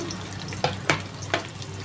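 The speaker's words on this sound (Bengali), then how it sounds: "আমি একবারে আলুটা এর মধ্যে ভেজে নেব" Potato pieces fry in hot oil with a low, steady sizzle for a Bengali rohu fish curry, broken by a few sharp clacks of stirring close by.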